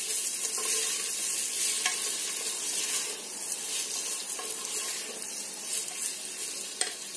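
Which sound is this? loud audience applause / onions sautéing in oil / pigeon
onions sautéing in oil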